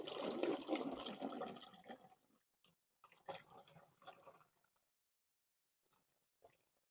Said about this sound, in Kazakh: Ыдысқа құйып аламыз.